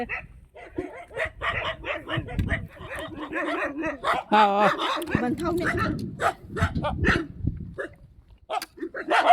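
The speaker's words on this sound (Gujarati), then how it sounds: "અહીંયા જો કૂતરા છે એ અજાણ્યા માણસોને દોડે" Several sharp dog barks ring out at close range at strangers, mixed with people talking over them throughout.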